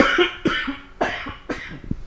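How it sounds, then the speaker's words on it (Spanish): A man recovering from a lingering cough and mild asthma coughs four times in quick succession, each a sharp, close, loud burst with short pauses between. "Perdón por la tos, todavía ando un poco mal de la tos."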